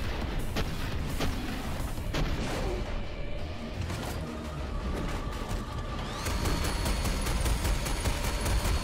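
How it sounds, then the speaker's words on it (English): Gunfire rattles in the video game Sprawl, repeated sharp shots over dense, loud game action noise, with rapid regular firing bursts toward the end. "when I'm shooting up from underneath them"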